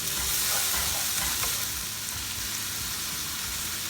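Frozen vegetables sauté with spices in a hot pan for pulao, a dense steady sizzle and crackle with faint stirring scrapes, close and continuous.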